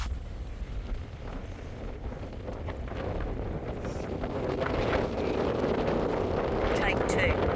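Cold wind buffets the microphone on a beach, a steady broadband roar that rises and thickens toward the end, loud and close, with no voices.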